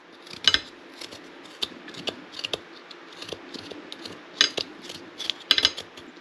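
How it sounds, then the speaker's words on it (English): A spoon scrapes the skin off ginger in short, sharp rasping strokes, irregular bursts of scratching close up with brief pauses between them. "Get any spoon and just peel it down."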